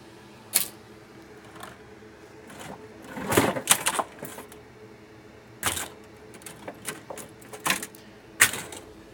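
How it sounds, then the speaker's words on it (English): Clicks, clacks and scrapes of small MacBook Air logic boards missing resistors being sorted through by hand, irregular and fairly close, with no talking. "That's the sound of me going through a lot of boards that are missing resistors."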